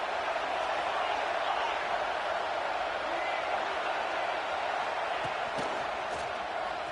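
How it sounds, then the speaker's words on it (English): Roaring crowd filling a vibrating stadium at a Florida Gators college football game, a steady dense wall of noise throughout with no break. "listen to this crowd noise. This stadium is vibrating."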